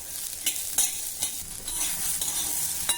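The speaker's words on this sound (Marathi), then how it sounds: "तुम्ही बघू शकता तुरीचे दाणे, मिरची, लसूण जरा भाजून झाला आहे" Pigeon pea beans, green chili and garlic roasting in a pan, a continuous bright sizzle with several sharp scrapes and clicks of a spatula at irregular intervals.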